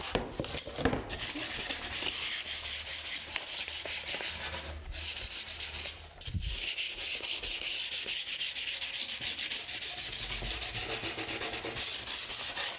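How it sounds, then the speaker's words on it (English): Hand-sanding the edges and corners of a wooden board for a treadmill desk makes continuous, loud, close rasping strokes in a steady back-and-forth rhythm, broken by a few brief pauses. "now that we've sanded it down"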